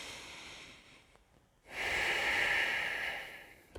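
A long, close, audible breath during a morning yoga flow: a soft hiss that dips briefly into a pause, then a stronger, steady airy exhale lasting about two seconds.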